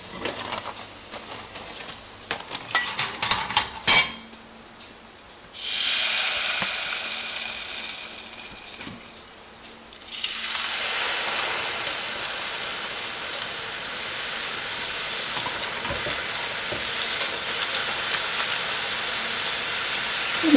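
Eggless rose cookies (achu murukku) fry in medium-hot oil with a loud, steady sizzle that runs without voices. Sharp clicks and clatter of handling come first, then the broadband hiss swells and stays strong to the end.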